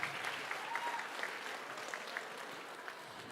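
A large audience applauds the performers on the podium at the opening event of United World Week 2024 in Loppiano: steady, dense clapping from a crowd, held at an even, fairly soft level with no voices over it.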